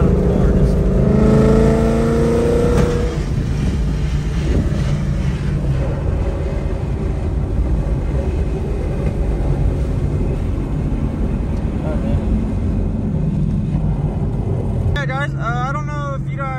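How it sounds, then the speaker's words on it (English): A car engine hums steadily while cruising, a loud continuous drone with road noise and someone talking over it throughout, ending in a short sweep of a different tone. "I love the sound of the car."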